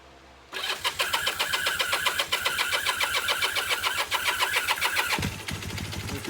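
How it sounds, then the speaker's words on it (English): A 1978 Kawasaki KZ400 motorcycle with a newly installed exhaust and carburetor cranks and fires up, then runs loud with a rapid, pulsing rhythm before dropping to a lower idle. "Let me give that a little bit of throttle."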